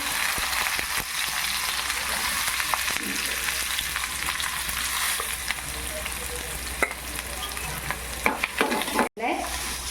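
Chopped onion fries with cumin seeds in hot oil, giving a loud, continuous close-up sizzle with occasional stirring scrapes and pops. The hiss briefly cuts out near the end.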